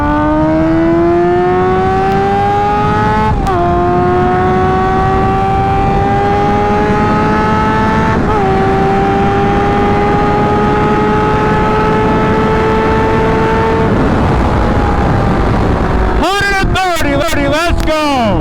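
A Honda F4i sport motorcycle fitted with a Radiant Cycles Shorty GP exhaust, held at a loud, steady high rev that dips and climbs in several steps, then a burst of sharp rapid blips near the end, very close.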